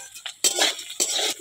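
A spoon stirs potato and mushroom curry in a pan, giving a few short scraping and clinking strokes, close and fairly loud, with no talking.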